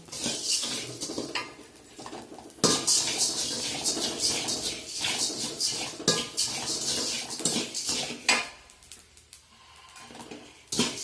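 Coriander seeds roast in a little oil in a pan while sambar powder is being made. A spoon keeps up a close, steady rattling and scraping against the metal, with faint birdsong in the background.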